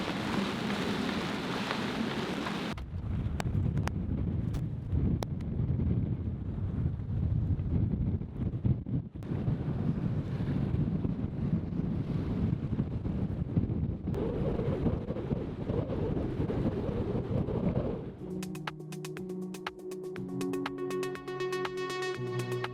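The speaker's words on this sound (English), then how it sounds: "As the wind and the waves grew, One Life began to pitch violently up and down." Strong wind, rain and waves buffet an anchored sailboat in a storm off the Cook Islands, a steady loud roar with wind rumble on the microphone, ending in a different, tonal stretch.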